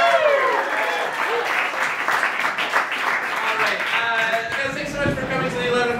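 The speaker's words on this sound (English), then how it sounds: "Give it up for these guys." A crowd at a musical applauds steadily throughout, with cheers and whoops rising over the clapping.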